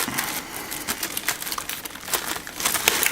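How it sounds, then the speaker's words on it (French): Packaging around an NZXT Havik 140 CPU cooler being torn open, a close run of crinkling and ripping plastic and paper rustles across the whole stretch. "Allez, hop, on déchire, on s'embête pas."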